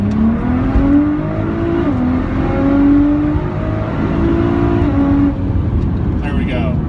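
Nissan GT-R R35 with GR6 transmission pulling at full throttle from second through third into fourth gear, a loud steady engine roar with rising pitch sweeps at each shift, then easing off near the end.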